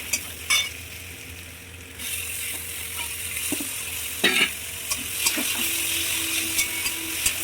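Cabbage, capsicum, beans and peas fry in a pan for a Bengali-style tawa pulao, a steady sizzle broken by a few sharp scraping stirs and clinks, close and moderately loud with no talk.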